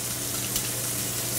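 Vegetables hitting a hot pan in a chef's kitchen, a dense continuous hiss of sizzling frying, loud and close, with no talking.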